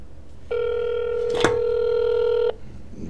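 A telephone dial tone sounds after the other party hangs up on a call. The steady, loud tone holds for about two seconds, with a brief click partway through, then cuts off into quiet room noise.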